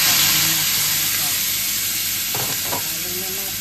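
Tomatoes and garlic sizzling in a pan, a loud, dense hiss filling the clip with a couple of brief stirring scrapes near the end, close up; a voice is faintly present.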